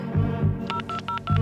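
A telephone number is dialed in a Hindi stage play: a series of short electronic keypad tones sound one after another over a low hum, close and fairly loud.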